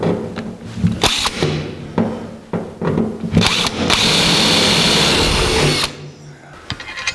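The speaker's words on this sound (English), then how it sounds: "we have to drill a 3/8 inch hole through the locating hole that we drilled from" A power drill bores a 3/8 inch hole through the firewall of a 1949 Chevrolet gasser for a brake pedal install. Several short whirring bursts lead into one longer sustained run, close and loud.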